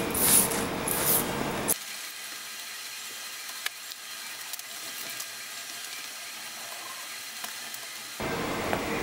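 A bottle of colour mix, mixed one to four, sprayed onto a lightweight concrete countertop: a rough hissing burst at the start, a faint steady hiss for several seconds, then another burst at the end.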